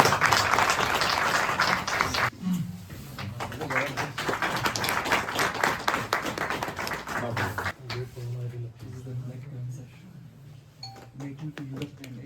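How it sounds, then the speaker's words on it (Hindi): An audience claps at a university campus event in Kargil, a burst of dense applause at the start that gives way to someone speaking over a quieter hall. "मतलब स्टूडेंट यूनियन के लिए आप लोगों ने धीरे से ताली बजाई।"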